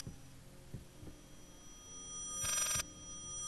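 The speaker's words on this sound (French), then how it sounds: "C'est un téléphone qui sonne." A telephone ringing in the horror game Layers of Fear: one short, bright ring bursts out over a faint, low throbbing hum, with no voices.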